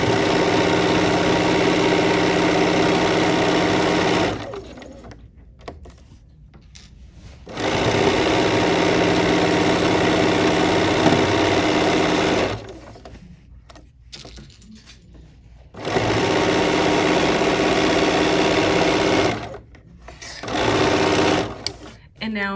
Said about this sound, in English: All right, I'm sewing the side of our other block here.